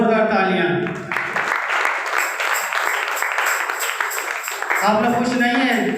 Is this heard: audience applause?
yes